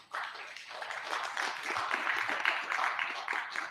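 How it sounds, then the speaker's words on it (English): Applause from an audience at a Maharshi Dayanand Jayanti gathering, a moderate steady patter of many hands clapping for a few seconds, starting abruptly. "I think that deserves a round of applause."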